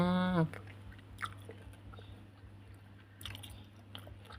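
Close, soft chewing and biting while eating a rice meal with shrimp paste chili dip, fried eggplant and fried egg with cha-om, after a brief tonal beep at the start.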